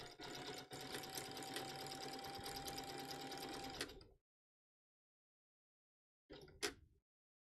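A sewing machine stitches steadily for about four seconds at a close, even, loud run, switching between straight and zigzag stitching, then stops; after a silent gap it gives a short final burst.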